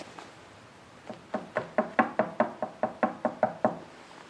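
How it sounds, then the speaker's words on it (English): Around a dozen sharp knocks on a wooden surface at a covered bridge at night, evenly spaced and close, growing louder after a couple of quieter taps, with no voices. "So you'll knock a couple times and we'll see if there's something back."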